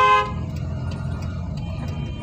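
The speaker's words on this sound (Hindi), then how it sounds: "horn, long horn" A short, loud car horn blast at the start, then the low steady rumble of a car engine.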